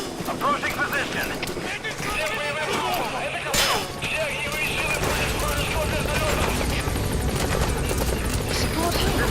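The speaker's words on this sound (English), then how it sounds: "This is helicopter Pequod." Helicopter in the Metal Gear Solid V video game, a steady loud rotor and engine roar sustained throughout under dense game effects, with radio voices talking over it.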